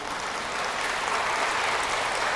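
Audience applause fills a church lecture hall, a steady wash of many hands clapping together at moderate volume for the whole stretch with no voices over it.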